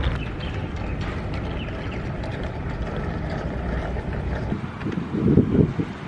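The small electric motors of a toy fishing bait boat run up and back down, a steady low whirring hum with wind-like rumble throughout and a brief louder surge near the end.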